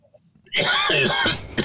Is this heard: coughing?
yes